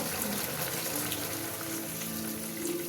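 Liquid milk poured into a boiling pot of shukto, mixed vegetable curry, making a continuous close watery pouring and bubbling wash for three seconds, with no talking.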